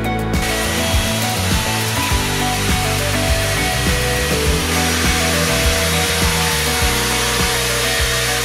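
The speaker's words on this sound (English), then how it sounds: "I'm using a paint stripper for the hard to reach area." A paint-stripper heat gun roars loudly and continuously, a steady blowing whine with faint rattles, used to clean hard-to-reach areas of a home-built gas turbine engine, with no talk.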